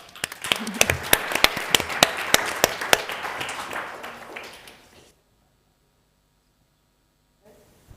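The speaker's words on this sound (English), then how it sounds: "Welcome, and a hand of applause." An audience at an academic talk on freedom of expression gives a round of crisp, close claps. The clapping fades over about five seconds, then near silence follows with a faint sound at the very end.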